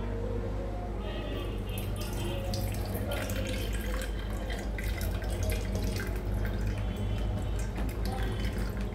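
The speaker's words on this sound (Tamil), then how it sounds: "டபுள் ஃபில்டரில் வடிகட்டிக்கோங்க" Ragi (finger millet) porridge liquid being strained through a double filter, giving a steady close trickle and dripping of liquid throughout, with no talk.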